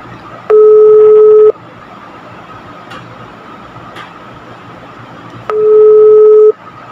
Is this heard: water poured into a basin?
no